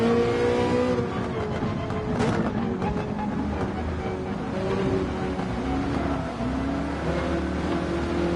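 A race car engine in Gran Turismo 7 during an 800PP endurance race at Spa drones steadily and loudly throughout, its pitch rising and falling with the throttle.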